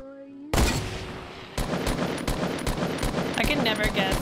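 Rapid bursts of automatic gunfire in a Fortnite Battle Royale match, loud and close, with sharp repeated shots stacking into a dense fusillade alongside other game effects.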